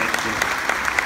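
Brief, steady applause from an audience aboard the cruise ship Vision of the Seas, a close wash of clapping.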